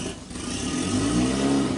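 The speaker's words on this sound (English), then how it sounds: "I'll just give it a little throttle once" A Triton 216 Fishunter boat's warmed-up engine eases off near idle, then takes a small blip of throttle, a steady low rumble that rises slightly in pitch and holds, close and alone.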